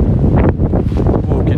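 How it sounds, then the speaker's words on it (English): Loud, rough seaside wind buffeting the microphone outdoors, a constant low rumble with gusty fluctuations and no clear speech. "So it may be a little bit windy here."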